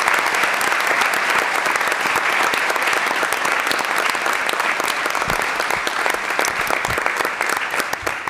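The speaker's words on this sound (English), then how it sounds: "let's hear a big round of applause for Mr. Engelhart." A crowd at a high school board meeting claps steadily and loudly, dense applause sustained for several seconds without letting up.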